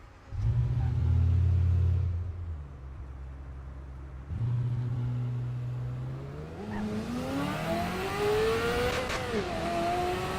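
A Ferrari F2004 in a racing video game revs hard through its gears, its engine pitch climbing and dropping with each shift and a gritty grinding edge on the changes, loud and close with no talking.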